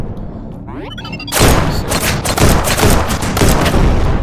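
A dense, loud volley of gunfire erupts from turrets and bots in the VR shooter game Shotwood VR, rapid overlapping shots and booms pounding continuously after a brief quieter lead-in.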